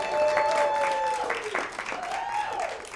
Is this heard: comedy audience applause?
yes